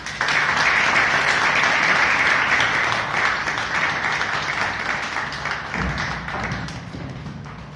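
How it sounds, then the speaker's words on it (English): A meeting audience bursts into sustained, dense applause that starts abruptly and slowly tapers off. "Please welcome with a huge round of applause, table topic master of the day, Toastmaster Meenakshi"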